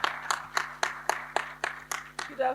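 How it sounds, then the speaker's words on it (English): Applause from an audience at a health and safety talk on pest control, about ten crisp, evenly spaced claps in a steady rhythm, close and moderately loud, with no talking over them. "Give a round of applause, please."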